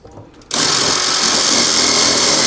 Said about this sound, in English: get your drill gun. Got some screws